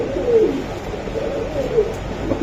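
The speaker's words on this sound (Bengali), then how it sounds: "টেডি কবুতর পাকিস্তানি একদম পিওর টেডি মাদি কবুতর" A female Pakistani teddy pigeon coos softly and continuously nearby in low, rolling calls.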